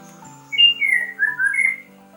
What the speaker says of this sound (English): The vocalizations of the male are strong enough that they can be heard at various hundred of meters far away.